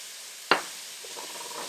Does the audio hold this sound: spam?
yes